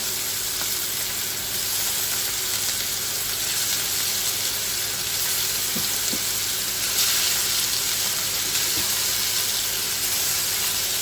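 Small sardines coated in ginger-garlic paste, chilli powder, turmeric and fish masala fry in hot oil with a loud, steady sizzle and hiss that holds without pause throughout.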